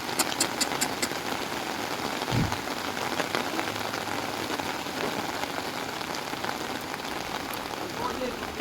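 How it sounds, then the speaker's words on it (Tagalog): Heavy rain pounds steadily on a surface close by during a pickup delivery run, a broad constant roar with an engine idling low beneath it and brief voices. "Lumakas na yung ulan."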